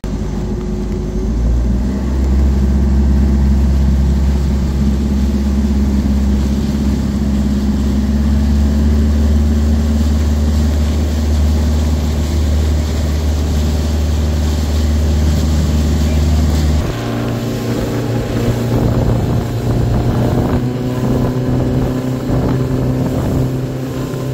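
A motorboat cruises across a lake, its engine droning steadily and loudly up close, with a pitch shift partway through as the throttle changes, and no voices over it.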